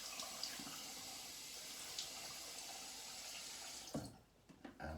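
A bathroom tap runs steadily into a sink to wet a head before a straight-razor shave, a continuous close splashing stream that cuts off near the end, followed by a few brief drips and handling sounds.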